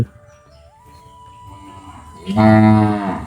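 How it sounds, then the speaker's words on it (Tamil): A cow lets out a loud, close moo near the end, following a quieter stretch with a faint steady tone and low background noise. "மாடு அது"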